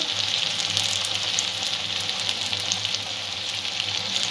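Onions and tomatoes fry in a pan, giving a steady, dense sizzle that runs close and loud throughout without pause, with no speech.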